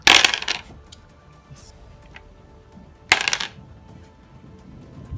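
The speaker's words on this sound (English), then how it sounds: "Forge Father command dice coming at you." Forge Father command dice for the Deadzone tabletop game being rolled, two short clattering bursts about three seconds apart, near and crisp against quiet.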